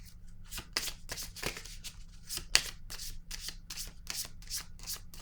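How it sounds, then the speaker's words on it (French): Tarot cards being shuffled and drawn by hand, a close series of quick papery riffles and slides with a few sharper card snaps, quiet and continuous without talk. "Je vais piger une autre carte."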